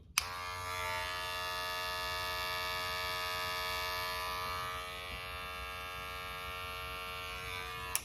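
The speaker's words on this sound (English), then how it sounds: "It's a Wahl clipper." A Wahl Legend cordless hair clipper hums steadily and close, a bright buzzing drone with a sharp click at switch-on and a slight drop in pitch partway through.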